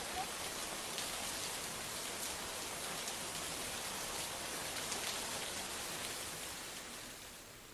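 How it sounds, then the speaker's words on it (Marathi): Heavy cloudburst-like downpour lashing Lonar taluka, a steady, dense roar of rain falling on surfaces, loud and unbroken throughout, with no voices. "ढगफुटी सदृश्य पावसानं लोणार तालुक्याला चांगलंच झोडपून काढलंय।"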